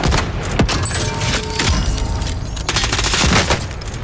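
Shotgun fire in the shooter game Warzone, loud, dense repeated blasts and impacts filling the whole stretch, with no voices over it.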